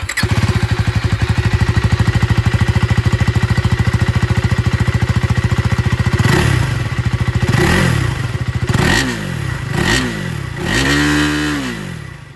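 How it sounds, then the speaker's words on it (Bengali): A 2025 KTM Duke 390 with an underbelly exhaust idles in a steady, loud, fast-pulsing thump, then is blipped through several sharp revs that rise and fall in quick succession near the end. "চলুন তবে এর যে এক্সস্ট সাউন্ড সেটাও আমি আপনাদেরকে এখানে শুনিয়ে দিই"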